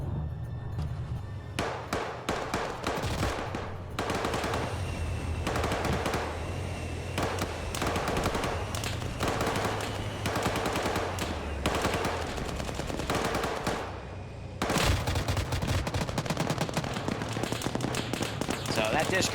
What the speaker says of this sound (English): Dishko was firing, but it just got ripped apart by a 50.